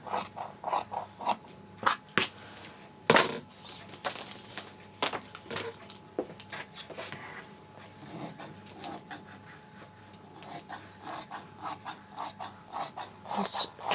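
Scissors snip and trim along the bottom edge of kameez fabric, giving a run of crisp, irregular close-up cuts with light handling rustle between them and no talking.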